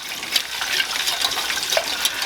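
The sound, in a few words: whisking milk into a sauce in a pan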